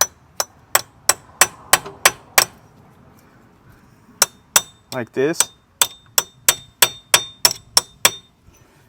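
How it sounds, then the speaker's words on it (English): Sharp metallic hammer taps on a punch against a CV axle on a 2011 Dodge Avenger ring out in a steady rhythm, pausing briefly while a voice speaks, then resuming in another quick series. "you can put a punch in, just like so, and you can tap it with a hammer"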